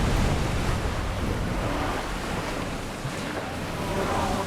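A sailing warship pushes through open sea in Assassin's Creed Odyssey: a steady, loud wash of surf and wind rushing against the hull, broadband and unbroken, with no voices.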